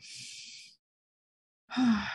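A single deep inhalation, audibly breathed in and drawn out during a calm stress-relief breathing exercise, coming after a short stretch of silence.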